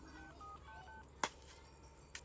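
A few soft keypad tones sound faintly, followed by a sharp click and another brief tap, in a quiet room.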